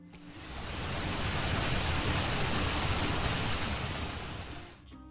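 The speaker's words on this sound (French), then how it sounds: "Puis la rivière court encore et tombe en cascade." A river tumbling down a waterfall gives a steady, dense rush of water that swells in the first second, holds full and broad, then fades away near the end, with no voices.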